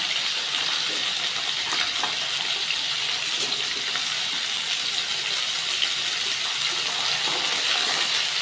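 Potatoes and mixed vegetables, papaya among them, fry in a pan with a steady, dense sizzle and crackle that runs unbroken, close and moderately loud, with no voices.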